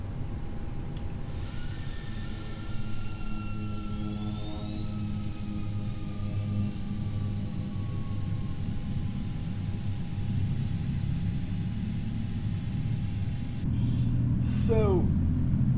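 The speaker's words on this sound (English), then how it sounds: "let's start engine number 2. Auto start" A Boeing 777-200ER jet engine spools up during start in the Prepar3D flight simulator, a steady rising whine over a low rumble that keeps building and grows louder near the end.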